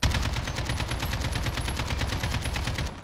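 An AK rifle firing fully automatic in a video game, one continuous burst of rapid, evenly spaced shots lasting about three seconds, loud and close, with no talking.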